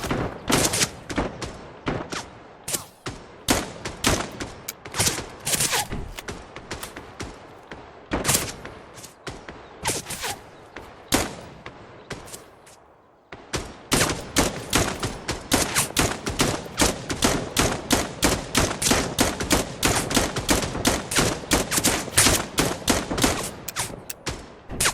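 Rapid bursts of video game gunfire, dense volleys and fusillades with a brief lull midway, then sustained fast automatic fire that stays loud and close throughout.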